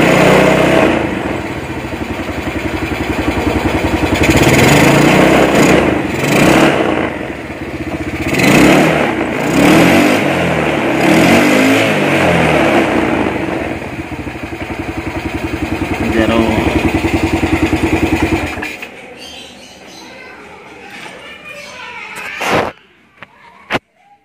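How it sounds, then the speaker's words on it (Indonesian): Motorcycle engine with a healthy voltage regulator revved in a workshop as the throttle is opened, a loud sustained roar with swells in pitch for most of the clip, then cutting off to a quieter idle with a few clicks at the end. "Kita tarik gas."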